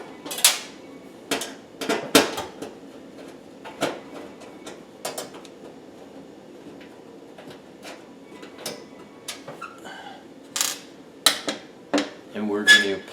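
A small 1/4 inch socket set works loose two hex head connector screws at the back of a GE electric oven heating element, giving scattered metallic clicks and clinks close by, with brief pauses between bursts.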